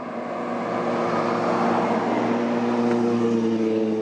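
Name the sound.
Kawasaki KLR motorcycle engine while riding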